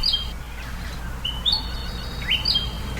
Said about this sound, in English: an audio postcard from our Freya McGregor, featuring her latest Aussie avian observation of a bird